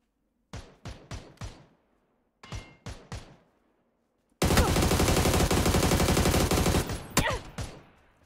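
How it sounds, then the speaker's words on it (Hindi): Gunfire in PUBG on PC: two short volleys of three or four sharp, close shots, a pause, then a long, loud burst of sustained automatic fire that ends in a few separate shots. "वो कोई गोली चला रहा है पर मार क्यों नहीं पा रहा मुझे?"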